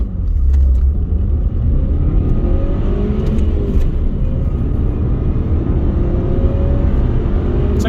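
A car launches hard from a standstill at just over 3,500 RPM in a 0 to 60 run in Scotland, its engine note climbing steadily and loudly through the gears, heard from inside the cabin with a constant deep rumble.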